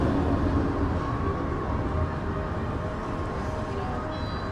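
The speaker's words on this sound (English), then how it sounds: "there'll be a train pulling into the launch zone here in just a moment" A Slinky Dog Dash roller coaster train at Disney's Hollywood Studios pulls into its launch zone, a steady, moderately distant mechanical rumble and hum that fades slightly over a few seconds, with no talking.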